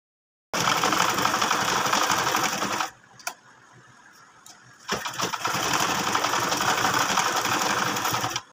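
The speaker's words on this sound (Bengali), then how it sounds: "তো শোল্ডারে আমি সব সময় ডাবল সেলাই করে নিই" A sewing machine runs two long stitching bursts while double-stitching the shoulder seam of a baby dress, with a quiet pause and a couple of clicks between runs; steady, close and loud with no talk.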